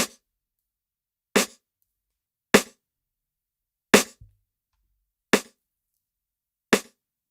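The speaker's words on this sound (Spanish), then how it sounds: "Este es el sonido de la caja." A compressed snare drum hits six times at steady intervals of about a second and a half, each a sharp, punchy crack with a short tail and silence between.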